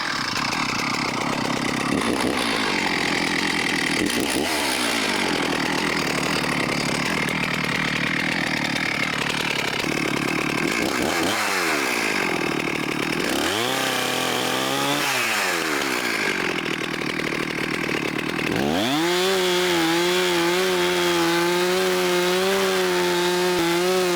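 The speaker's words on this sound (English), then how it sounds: "line my saw up with the V on that wedge and just cut straight in" Chainsaw making the back cut to fell a tree, loud and continuous, the engine dipping and surging in pitch as the bar bogs into the wood, then settling into a steady high rev near the end.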